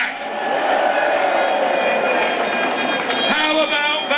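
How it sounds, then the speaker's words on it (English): A large outdoor crowd of Brexiteers cheering in Parliament Square on Brexit Day, a loud continuous roar of voices and shouts sustained throughout, dense and close. "A crowd of Brexiteers cheer Tony Blair."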